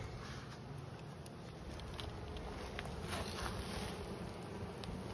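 Honey bees hum and buzz in a dense, steady drone at an open hive, a low, faint wash of sound with no pauses.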